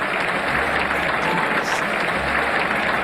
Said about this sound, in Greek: Και όλο το Καφτατζόγλιο χειροκροτεί.